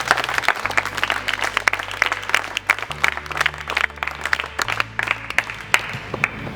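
Audience applause for boxing coach Vijay Hooda at a boxing training session, a dense, steady burst of many hands clapping for several seconds, with a low droning tone running beneath it.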